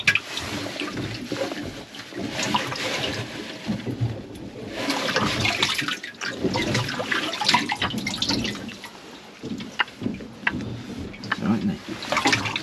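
Water splashes and pours while gutted whiting are rinsed out aboard a small sea-fishing boat, an uneven wash of running and sloshing water.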